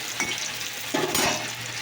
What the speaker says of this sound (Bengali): এটাকে এখানে রসুনটা ভাজা হয়ে গেছে,